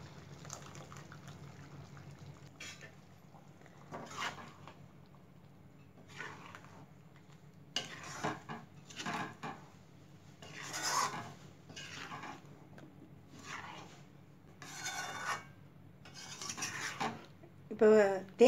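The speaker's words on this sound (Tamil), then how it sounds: "இப்போ தேங்காய் அரைச்சி விழுது ஊற்றியாச்சு" Ground coconut paste is stirred into a simmering pot of urundai kuzhambu. A spoon clinks and scrapes against the pot in short, irregular bursts over a low, steady burner hum.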